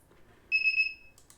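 An Arduino-driven piezo buzzer gives a single short, shrill electronic beep of about half a second, clean against near silence, followed by a couple of faint clicks.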